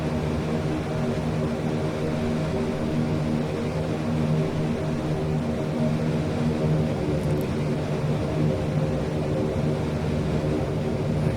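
De Havilland Dash 7 four-propeller engines in Microsoft Flight Simulator 2020 during a climb, a steady droning hum with constant throbbing tones, continuous and close, with no other sounds.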